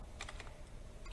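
Keys clicking on a computer keyboard while entering text into a table in Microsoft Word, a faint quick cluster of taps, a pause, then a few more strokes.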